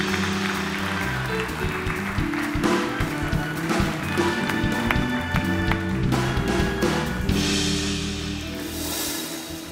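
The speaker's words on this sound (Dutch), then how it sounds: "Dames en heren, een hartelijk applaus voor Simon Hania en Sergei Katus." Applause from a Dutch late-night talk show audience greets two guests on a privacy panel. Heavy, uneven clapping with thumping beats and musical tones underneath tapers off toward the end.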